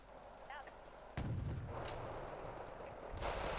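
Mortar strikes in the strategy game Wargame Red Dragon: one sharp, loud blast followed by a rolling rumble and scattered distant crumps, with a faint voice in the background.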